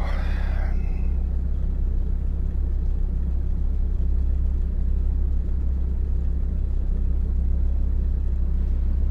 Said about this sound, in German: Ja, ich fahre einen süßen alten Audi Quattro Sport.